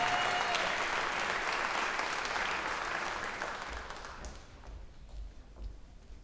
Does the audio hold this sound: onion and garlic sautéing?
no